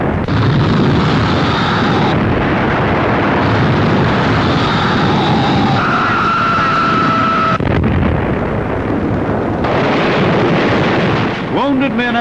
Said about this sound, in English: each hour was terrifying with violence of gunfire and the hurling of grenades